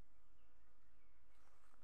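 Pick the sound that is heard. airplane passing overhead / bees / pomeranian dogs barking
bees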